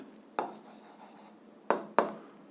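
A pen or chalk jots a physics problem in three sharp, separate taps and strokes, quiet and close, in an otherwise hushed room with no talking.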